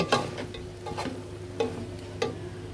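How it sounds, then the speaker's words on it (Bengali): Vegetables with shrimp and meat being stir-fried together for homemade fried rice, a utensil scraping through the pan in regular strokes about every half second over a steady close sizzle, with no talking. "আমরা এখন সবজির মাঝে চিংড়ি এবং মাংস দিয়ে দিব। সব কটা সবজি একসাথে মাখিয়ে নিব।"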